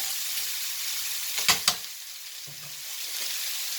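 Steady, fairly loud sizzling from a pan sauté for pasta sauce, with a couple of sharp scraping stirs partway through and no voices.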